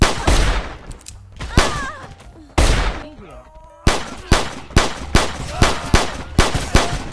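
Gunfire in a video game with a guns framework mod: a few heavy, booming shots, then a quick run of evenly spaced sharp blasts, loud and close with ringing tails between them.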